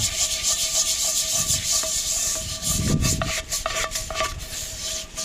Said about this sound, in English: that'll clean a whole lot of it off just by using the brush